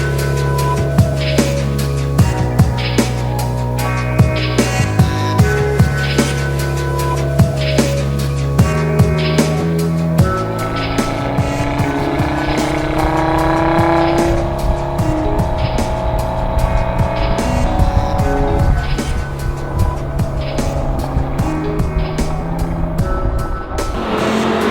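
A loud 2017 Audi RS3 Sedan engine revs and roars, shifting through gears of its DSG gearbox as it accelerates hard, with a brief tire squeal, no voices.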